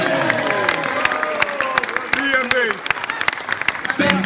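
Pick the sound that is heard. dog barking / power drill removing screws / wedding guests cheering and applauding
wedding guests cheering and applauding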